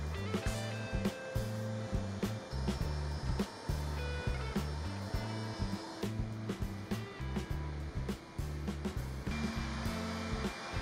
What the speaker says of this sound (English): we continue with the polishing pads on the edges, including the use of our Clindex machine and some hand polishing as well, all the way up to 1500 grit.